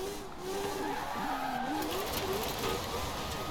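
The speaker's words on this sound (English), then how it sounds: "Drifting in the dirt." A Mazda RX-7 Spirit R drifts on dirt in Forza Horizon 4, its engine droning steadily while tires squeal with wavering pitch, loud and continuous throughout.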